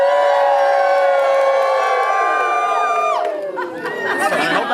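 Wedding guests cheer for the couple's kiss, a loud sustained crowd of whoops and high shouts that dips in pitch about midway and then breaks into scattered, livelier cheering.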